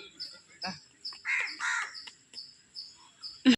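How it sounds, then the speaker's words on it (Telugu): A crow at a zoo park gives a series of short, evenly spaced caws at moderate distance, with a voice chattering in between and a louder sharp knock at the end. "ఇలా వచ్చి ఇలా వచ్చి కాకి"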